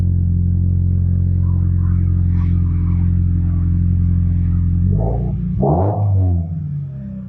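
A 2023 Toyota GR86 2.4 boxer engine with an aftermarket exhaust idles with a steady low rumble, then is revved sharply twice near the end, rising and falling in pitch.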